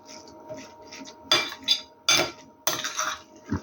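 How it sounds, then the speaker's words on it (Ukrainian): Utensils clink and scrape against a bowl while mixing a beet salad, in several short bursts, with quieter stirring and rustling between the louder knocks. "Добре вимішуйте салат, щоб гарно компоненти були з'єднані між собою"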